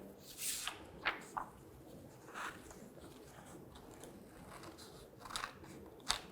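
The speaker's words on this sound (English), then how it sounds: "So I'm going to take my scissors. I'm going to use these colored sheets here." Scissors snip through colored paper sheets in short, crisp cuts, several separate snips spaced irregularly, close and fairly quiet.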